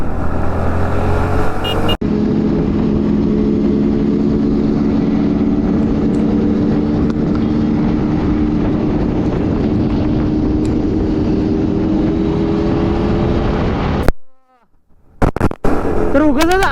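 Kawasaki Z900 and Z800 motorcycles on a group ride around Kolhapur and Sangli give a loud, sustained engine drone up close, which drops away abruptly near the end, leaving a brief quiet gap with a few faint sounds.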